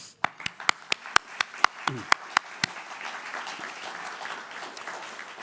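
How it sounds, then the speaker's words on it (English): A small audience at an interfaith center gives brief applause, about a dozen sharp, evenly spaced claps that stand out clearly, then fade under a murmur of room noise and faint voices. "I think that is worthy of an applause."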